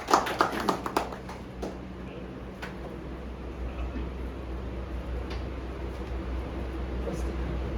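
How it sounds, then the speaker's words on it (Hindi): An audience at a company's annual function claps for a staff member, a brief scattering of claps that thins out within two seconds and gives way to quiet room noise. "एक बार तालियां मुकेश जी के लिए।"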